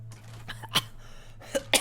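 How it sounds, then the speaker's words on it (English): A person coughs while playing Fallout 4: a few short, dry coughs spread over two seconds, close to the microphone and fairly quiet, over a low steady hum. "Sorry, coughing."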